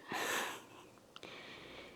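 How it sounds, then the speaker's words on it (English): Soft breathing during a yoga pose held for five breaths: an audible inhale-exhale with a faint sniff, close and alone, fading quietly afterward. "5 breaths here."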